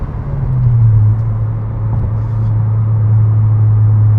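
A 9th-generation Honda Civic Si with a Yonaka exhaust accelerates, a loud, close, steady engine drone heard from inside the car that holds a sustained tone as revs build, with no talk over it.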